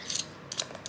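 Small blue plastic wheels of a toy Sesame Street skateboard spin with a faint, quick whirring rattle in a few short bursts, close but quiet.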